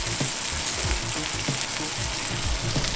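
Steady loud sizzle of steak searing in butter with rosemary in a hot skillet, a constant close frying hiss with soft spoon scrapes as butter is basted over the meat, no voices.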